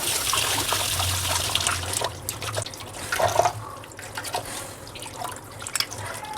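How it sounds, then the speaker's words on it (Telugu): Fish from the shop being washed under a running tap at home: a steady close rush of water with splashes and drips as the fish are handled, no talk over it. "బాగా కడుక్కోవాలి చేపలు."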